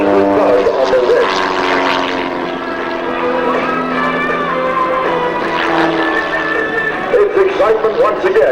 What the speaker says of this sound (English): It's excitement once again in the Fitz S1S as Chris Baru turns the Fitz upside down and wrong way around for tumble time in the sky